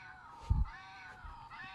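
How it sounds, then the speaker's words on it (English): Cat-like meowing tones from a touch-activated electric circuit experiment in a studio, a short electronic meow burst over a soft steady background. "oh my, I am making cat noises"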